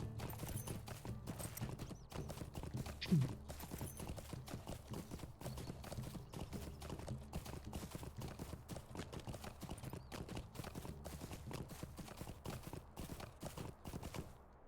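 A horse's hooves clip-clop in a steady trotting rhythm in the online fantasy game Lord of the Rings Online (LOTRO). The footfalls are close and continuous throughout, with a brief louder knock early on and no talking.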